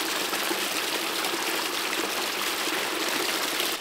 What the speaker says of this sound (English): I now have approximately 30 gallons of water going into this top box